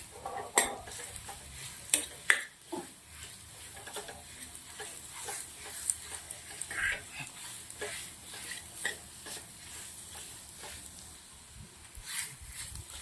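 A dry fruit mixture is sautéed in ghee in a pan on a low gas flame. A soft, continuous sizzle runs under scattered spoon scrapes and clinks at an even, quiet level.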